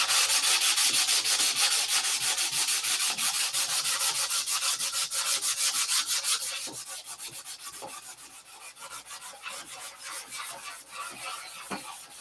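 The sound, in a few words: sanding canopy finish molding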